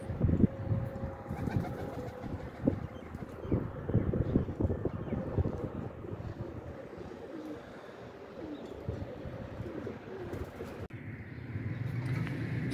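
A Kalay Zeeray kabootar, a rare old highflyer pigeon breed, cooing softly outdoors amid gusty wind and background rustle.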